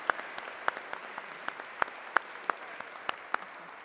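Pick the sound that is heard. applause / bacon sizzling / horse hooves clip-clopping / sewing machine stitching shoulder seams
applause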